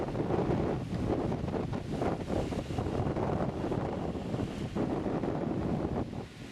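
Steady, heavy wind buffets the microphone, producing continuous low rumbling and roaring gusts throughout.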